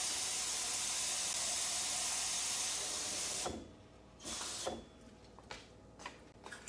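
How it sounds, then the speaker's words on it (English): Water streams into a tea dispenser with a loud, steady rushing hiss, then cuts off and leaves a few short splashes and trickles. "we just fill this up with water"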